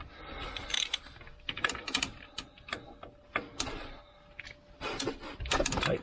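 Hand ratchet tightening the harmonic damper bolt on an LS1 V8 engine, quiet rapid clicking bursts of the pawl in short irregular strokes with brief pauses and a faint metallic clank, close by and without talking.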